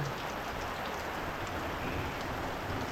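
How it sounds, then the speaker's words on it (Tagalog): Steady, dense rain falls and patters on surfaces, a constant hiss with no let-up and no voices. "Ang ulan."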